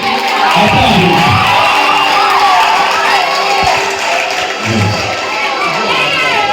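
A church congregation at a pastor's installation ceremony in Ingarama claps and cheers in a dense, continuous wash of applause, with excited voices and whoops mixed through it.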